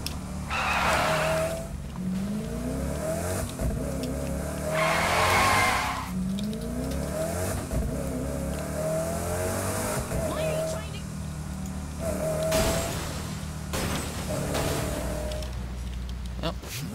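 A car stuck in Saints Row: The Third revs its engine hard over and over, tires squealing and skidding in repeated surges, with a voice talking over it at times.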